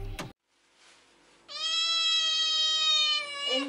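A cat lets out a long, drawn-out meow, loud and close, after a short sharp noise and a moment of quiet.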